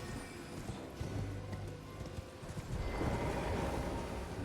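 Rhythmic clip-clop of a horse's hooves in the video game Elden Ring, with a brief whinny-like tone, close and steady, picking up in intensity toward the end.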